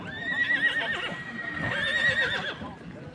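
Horses whinny at an outdoor horse market in Talas, with a shrill neigh rising over a busy din of crowd noise and hoof clatter throughout.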